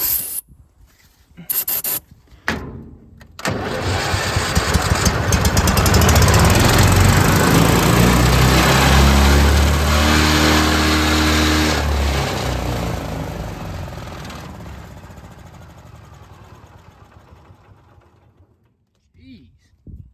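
A four-stroke engine on a new hydroseeder rumbles loud and close, surging up after a few sharp knocks, holding a rough, shaking drone with a falling tone, then slowly dying away toward silence.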